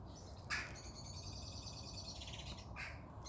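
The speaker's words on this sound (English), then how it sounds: "That's magpie that you can hear making that sound." A magpie gives a harsh, rattling chatter in a garden, a single sustained burst of call notes at moderate distance over quiet outdoor background.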